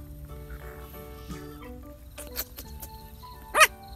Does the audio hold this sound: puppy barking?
yes